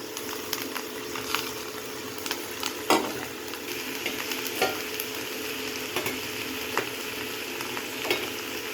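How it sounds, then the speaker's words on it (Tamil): Vegetables for kadhambam chutney sautéing in a pan, a continuous soft sizzle with irregular spoon scrapes and light knocks against the metal, close up, no voices. "நம்ம வதக்கும் போதே இந்த சட்னி வந்து எவ்வளோ கலர்ஃபுல்லாக இருக்குது"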